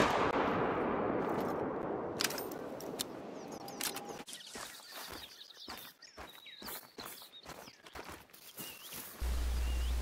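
A 7mm rifle shot at a whitetail deer in a hunting video game: a loud blast fades into a long rumbling echo, then outdoor ambience with scattered clicks, footsteps and birds.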